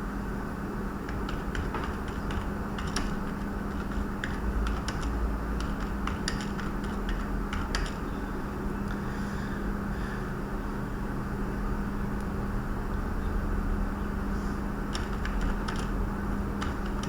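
Rapid, uneven clicking of computer keyboard keys as an exam answer is typed during an online test, close and clear, with bursts of keystrokes and short pauses over a low steady hum.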